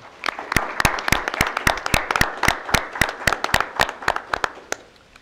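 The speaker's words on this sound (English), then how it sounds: "How about a round of applause for Audrey Miller?" Scattered applause at a school board of education meeting, a small group producing sharp, distinct individual claps in a loose rhythm that taper off after about five seconds.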